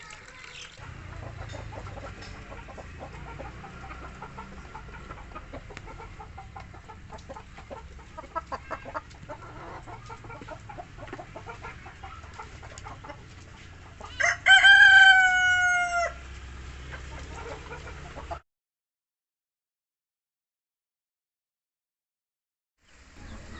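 Hens cluck softly in the background while a rooster lets out a loud crow, followed by quiet murmuring and then a stretch of silence.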